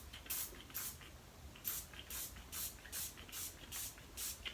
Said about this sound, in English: You don't have to do that many sprays.